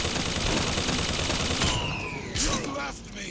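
Automated turrets firing in the Bioshock Infinite DLC finale, a dense rapid burst of gunfire that cuts off abruptly, followed by a short metallic boom and fading echoes.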